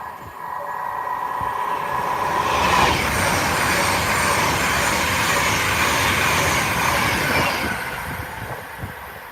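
A train rumbles past close by, its roar swelling and then steadying, with rattling wheels and a faint squeal, no voices.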